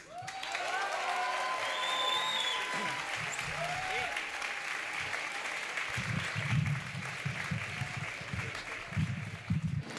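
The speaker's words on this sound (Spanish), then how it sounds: "queríamos que por favor le dierais un aplauso bien caluroso" A concert audience at a private show applauds and cheers, the clapping rising after a brief musical flourish and continuing steadily, with voices mixed into the crowd noise.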